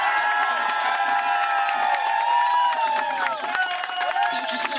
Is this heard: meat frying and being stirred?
no